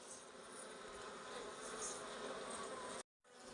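Honey bees buzz around beehive combs at a hillside village apiary in Uttarakhand, a dense, steady swarm drone close to the microphone, broken by a brief dropout near the end, with no talking.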